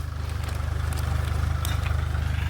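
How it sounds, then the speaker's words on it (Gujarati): A tractor engine idling nearby on a farm, a steady low rumbling throb with even pulsing and faint higher clatter, running alone without talk. "ટ્રેક્ટર હાલે છે જો"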